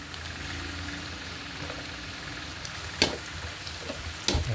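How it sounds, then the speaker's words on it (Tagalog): Garlic dropped into a hot pan for adobong sitaw fries with a steady low sizzle throughout, broken by a couple of sharp clanks of a utensil near the end. "hulog na rin po natin yung ating bawang"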